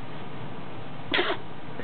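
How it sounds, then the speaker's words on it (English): A single short sneeze, one quick burst in a quiet room with steady low background hiss. "I just got the cutest sneeze on camera."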